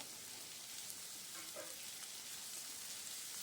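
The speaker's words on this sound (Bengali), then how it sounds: "এবার পেঁয়াজটা আমি ভাজা করে নেব" Onions frying in oil for a Punjabi chicken curry give a steady, even sizzle that holds at the same level throughout, close up and alone, with no voices.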